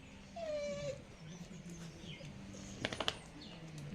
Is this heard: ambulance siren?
no